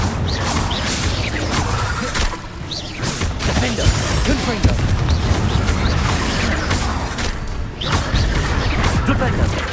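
Hogwarts Legacy spell casting: a dense, loud run of magical blasts, whooshes, crashes and thuds follows in quick succession, with a voice calling out spell names over the effects.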